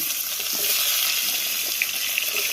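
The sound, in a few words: vegetables frying in oil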